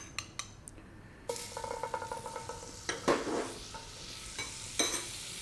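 Butter melting with a little olive oil in a hot pan sizzles softly beneath clinks and scrapes of a utensil stirring against the pan, with a few sharp knocks close by.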